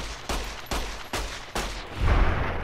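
Gunfire in the Fallout New Vegas video game during a fight with a group of enemies: four sharp, evenly spaced shots at moderate volume, followed by a louder rumbling burst at the end, with no talking.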